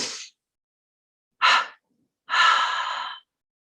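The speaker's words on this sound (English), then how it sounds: "Let's close this technique with a gentle double breath" A gentle double breath during guided meditation, with a short soft breath, then a pause, a quick inhale and a longer, steady airy exhale, close and quiet with silence between.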